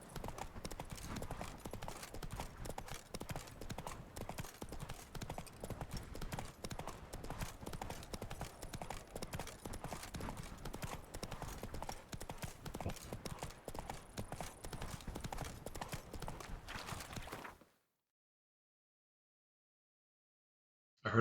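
Roach, a video game horse, gallops in a fast, dense drumming of hooves that runs loud and continuous before cutting off abruptly into silence near the end.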